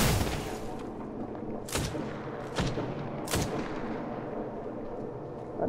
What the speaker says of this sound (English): That's a sniper rifle.